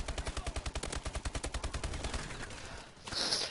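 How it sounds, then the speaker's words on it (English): A submachine gun in Call of Duty Advanced Warfare fires one rapid, loud, evenly spaced burst of about two and a half seconds. The burst then trails off into quieter game ambience and a brief hiss. "freaking submachine gun just ruined it"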